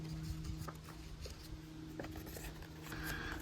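The blade of the Hornet knife from Holtzman's Gorilla Survival slices through paper, making faint, dry scraping and cutting strokes against quiet background noise.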